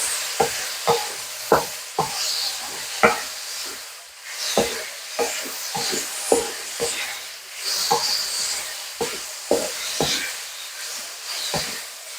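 Fried rice with soy sauce and sesame oil stirred in a wok, a spatula scraping and knocking in a steady irregular rhythm over a constant bright sizzle, close and fairly loud, with no voices.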